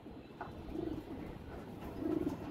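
Racing pigeons coo nearby in two distinct low rolling bursts, separated by a short pause, over a steady rustling background.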